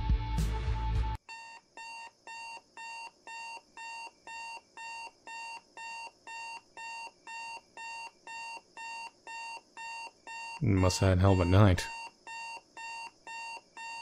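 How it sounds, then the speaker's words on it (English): An alarm clock beeps in a steady, regular rhythm of short electronic pulses in the video game Football Game, continuing for many seconds, with someone speaking briefly at the start and again near the end. "First, turn off this alarm, because it's making me crazy."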